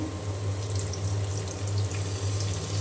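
Water runs steadily for a few seconds into a cooking pan of fried onions, with a low hum underneath, a continuous pouring sound with no voices.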